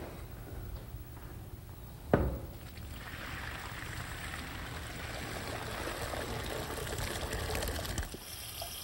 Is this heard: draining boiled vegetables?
yes